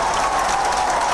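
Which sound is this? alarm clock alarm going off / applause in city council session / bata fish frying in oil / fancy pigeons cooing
applause in city council session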